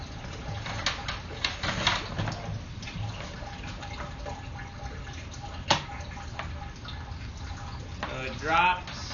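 Water leaks in through a hole in a building, heard as faint trickling and irregular drips with a few sharper taps, fairly quiet and close, with a brief gurgling splash near the end.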